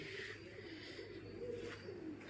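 Soft, steady pigeon cooing with low murmuring calls, set against a constant background hum, close by and continuous.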